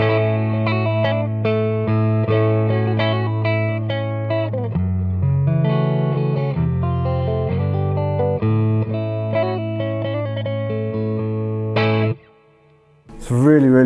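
An FGN electric guitar played through its middle pickup with effects such as distortion and chorus, ringing out sustained chords and notes for about twelve seconds before a brief silence and a final struck sound.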